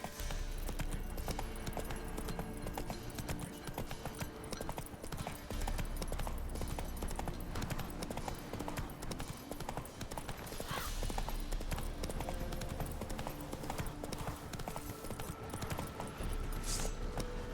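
Horse hooves gallop at a steady, continuous clip-clop rhythm in the video game The Witcher 3, moderately loud and alone throughout, with no talk over them.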